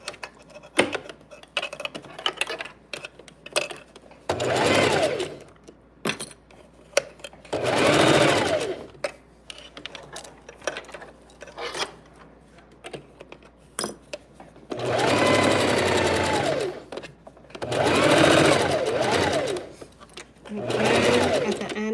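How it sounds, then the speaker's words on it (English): A sewing machine stitching a dress and back stitching, running in several short, loud bursts of rapid mechanical whirring separated by pauses and small clicks. "Again, at the end, I'm gonna back stitch."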